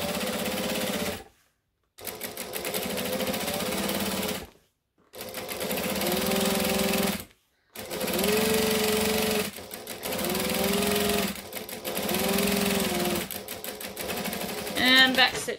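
Sewing machine stitching a hexagon bag, running in several close bursts of rapid mechanical chatter broken by short pauses as the seam pivots and backstitches, loud and near.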